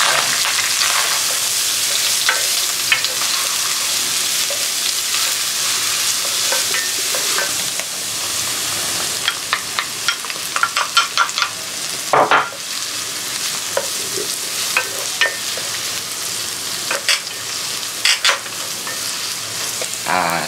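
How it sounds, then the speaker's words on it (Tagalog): Garlic fries in olive oil in a pan, a steady loud sizzle close by with occasional stirring scrapes and clicks of a utensil, no voices. "dapat huwag masyado mainit yung olive oil para hindi masusunog yung garlic"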